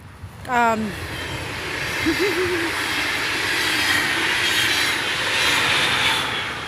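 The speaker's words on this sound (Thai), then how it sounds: "เร็วมาก เร็วมากรถไฟนะคะ ก็ที่นี่ก็ มีรถไฟความเร็วสูง" A steady, loud roar of a high-speed train rushing past in Germany, with a brief bird-like chirp and a short vocal sound early on.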